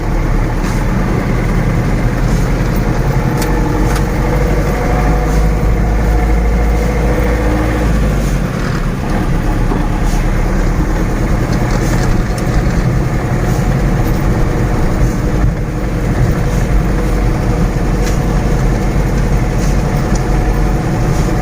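A ZIL-130 truck's engine runs loud and close with a deep, steady rumble, its pitch and load shifting as the truck pulls away, continuous for the whole stretch with no voices.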